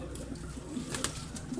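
Pigeons cooing softly inside a pigeon shop in Kocaeli, a few low, rounded coos over a quiet room murmur, fairly distant and faint, with a brief brighter rustle near the middle.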